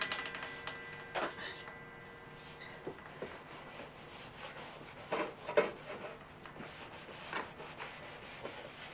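During a restoration job, a tool scrapes the outer layer off a piece in scattered, fairly faint rubbing and rasping strokes, close by and with no talk over them.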